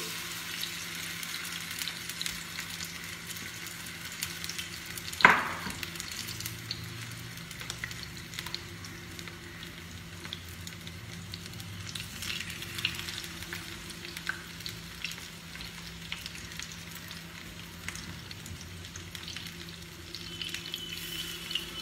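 Pabda fish sizzling steadily in hot oil in a pan, a continuous close crackle with one brief sharp clatter early on and light stirring noises, no voices.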